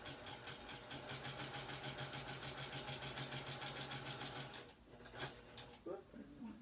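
Sewing machine stitching a needle-turn quilt block, running steadily with a fast rhythmic whir and ticking for several seconds, then stopping, followed by a few short clicks and soft handling noises nearby.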